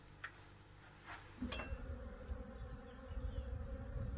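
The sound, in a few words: honey bees buzzing outdoors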